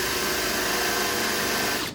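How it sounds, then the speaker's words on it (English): A steady high-pitched whine of a power drill runs continuously, then cuts off abruptly near the end. "Drill the hole."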